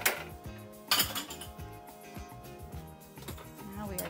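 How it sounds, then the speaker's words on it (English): A whisk beats vegan scallop sauce with white miso in a bowl, giving quick rhythmic metallic clinks and scrapes close by, with no talk. "Now we are going to whisk it together."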